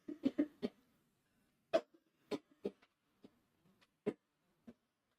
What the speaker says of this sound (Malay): Semoga Allah sembuhkan yang batuk.